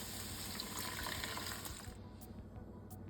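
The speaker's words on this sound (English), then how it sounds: "we're going to add 3 cups of water" Three cups of water pour into a cooking pot in a steady gushing stream for about two seconds, then stop, leaving quiet bubbling and faint clinks.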